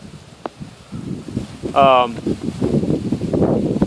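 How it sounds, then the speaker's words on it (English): Gusty wind buffets the microphone with a steady low rumble, a brief tonal whine cutting through midway. "It's a little windy."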